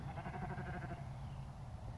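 A Katahdin sheep on a farm bleats once in a wavering, close cry lasting about a second, followed by quieter animal noise and faint background sound.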